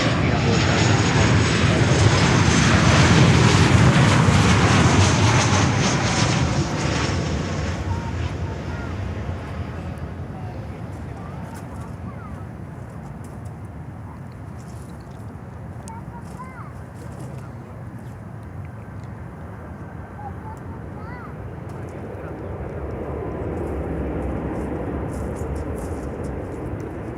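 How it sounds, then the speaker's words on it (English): Atlas Air cargo jet arriving from Anchorage, Alaska, at Miami airport: a loud broad engine roar that swells early, then fades to a steady distant rumble and rises again near the end, with wind noise and radio talk heard. "Here comes Atlas from Anchorage in Alaska."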